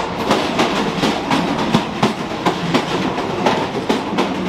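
Interior of a high-speed bullet train in Handan, China, at speed: a loud, steady rumble with regular clickety-clack wheel beats every half second or so, and no talking.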